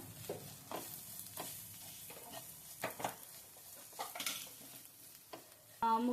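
Beef being stirred in a sizzling pan after Kashmiri chilli powder is added, with scraping spoon strokes over a steady fry and a sharper clink near the end.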